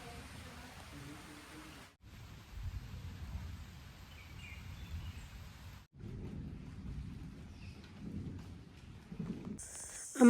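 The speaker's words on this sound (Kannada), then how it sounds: "ಯುಕ್ತ ಇನ್ನೂ ಎದ್ದಿರಲಿಲ್ಲ, ಸಣ್ಣದಾಗಿ ಮಳೆ ಸ್ಟಾರ್ಟ್ ಆಯಿತು." Light morning rain falling in a village with thunder, a steady broad patter with low rumbling throughout, briefly dropping out twice and ending with a brighter noise burst.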